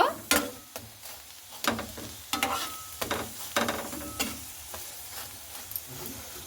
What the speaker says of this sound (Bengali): এই পিঠটা খুব ভালো করে কড়া কড়া করে ভেজে নেব।